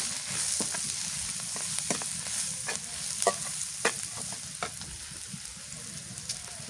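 Shrimp and spices, including salt, turmeric, cumin and garlic paste, sizzle in a pan while being sautéed, a steady frying hiss broken by scattered scraping taps from stirring, with no voices.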